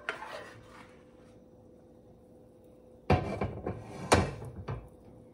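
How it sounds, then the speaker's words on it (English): A very heavy pan takes sausage and the soup's other ingredients, starting at about three seconds with a loud clatter and scrape, then a couple of sharper metallic knocks as a spoon stirs, after a quiet stretch. "I'm going to add it all in and give it a stir."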